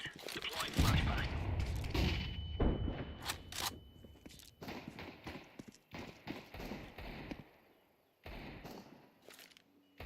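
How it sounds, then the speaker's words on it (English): In a first-person shooter, sharp bursts of gunfire and heavy blasts from a grenade and a flashbang crack out in uneven clusters. They are loud up close and separated by brief quieter gaps, with faint voices in between. "Grenade out. Deploying flashbang."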